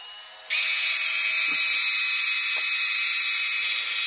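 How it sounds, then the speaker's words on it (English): A new electric motor on a Cragsman Founder Jeep RC crawler starts up and runs with a steady, loud high-pitched whine that holds throughout, with faint knocks underneath. "I got the new motor hooked up. Let's see if this one works."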